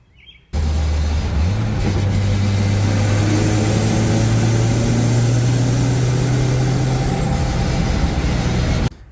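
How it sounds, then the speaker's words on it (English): A Nissan 240SX driving, its engine starting suddenly into a loud, sustained drone whose pitch climbs briefly as it accelerates, then holds steady under road and wind noise before cutting off at the end. "Man, it is so fun to drive this car."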